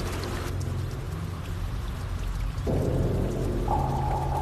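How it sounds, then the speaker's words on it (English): Rain falls steadily on the concrete skeleton of an office tower, a dense, continuous wash of drops and runoff that grows slightly heavier partway through, with no voices. "The concrete skeleton of this office tower, once protected from the elements, is now getting soaked by rain."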